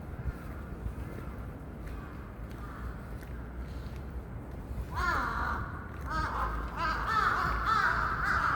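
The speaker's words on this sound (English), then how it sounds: "Or the crows in Japan, rather." Crows in Japan cawing outdoors, faint scattered calls at first, then a louder run of harsh, drawn-out caws in the second half, with no talk.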